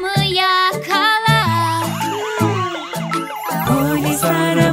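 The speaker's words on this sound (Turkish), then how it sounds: "Polis arabası bize yardım et, kötü adamı yakala." Cartoon police car siren in a children's song, a bright wailing tone sweeping up and down repeatedly over a bouncy musical backing, loud and continuous.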